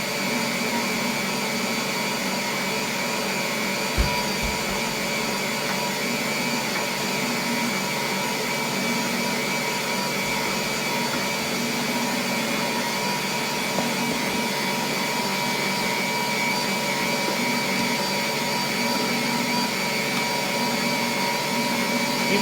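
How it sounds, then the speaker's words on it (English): Electric mixer kneading pizza dough in a home kitchen, a continuous loud whirring motor drone with a few faint knocks, running steadily throughout. "You probably won't be able to hear me very well with that mixer going, but I do have to go ahead and knead it"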